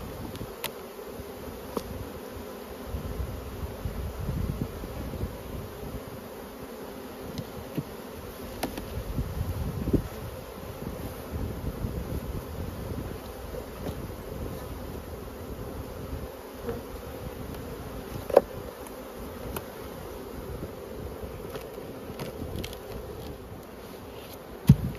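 Honey bees buzzing around an opened hive during spring management in Australia, a constant low, dense hum with occasional nearer passes and light knocks from the hive boxes.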